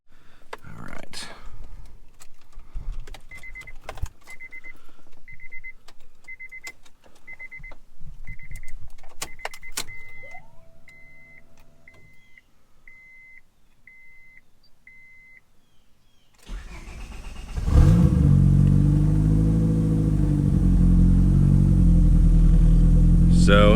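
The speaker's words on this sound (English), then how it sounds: "So it starts, we have a little bit of an idle surge, and the idle is gonna drop" A project car sits quiet at first apart from a string of soft dashboard chimes and a few clicks, then the engine fires abruptly and runs loud and close at idle.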